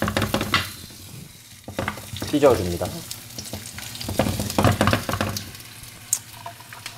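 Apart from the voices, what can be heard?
quarter onion sizzling in hot frying pan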